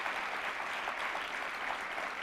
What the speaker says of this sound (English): Let's give everyone involved in this effort a huge round of applause.